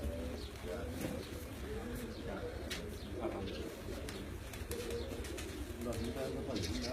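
Pigeons coo repeatedly in soft, rolling phrases nearby during a pigeon-flying championship in Sialkot, Pakistan, with people talking over and between the calls.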